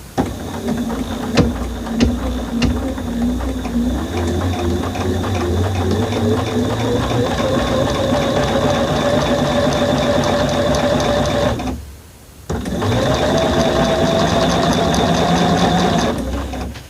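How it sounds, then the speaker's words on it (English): A sewing machine stitches a quilt block along the diagonal, running in a steady close whirring drone that stops briefly and then starts again. "I'm supposed to sew 1/4 of an inch from the diagonal."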